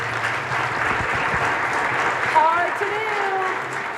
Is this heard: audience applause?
yes